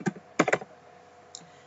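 Quick keystrokes on a computer keyboard, a short cluster of clicks followed by one faint tap, close and quiet, with no talk.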